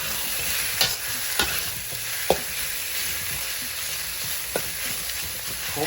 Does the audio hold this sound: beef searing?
yes